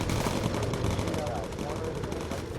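Continuous rattling machine gun fire from a bomber's gun turrets in the video game Bomber Crew, a dense sustained burst filling the whole stretch at steady loudness.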